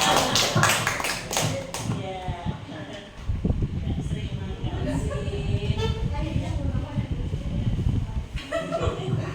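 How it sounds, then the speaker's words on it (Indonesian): A group of teachers clapping hands during a classroom game: a brief burst of sharp, close claps with chuckling, followed by muffled rumbling and talk. "Tepuk tangan dulu."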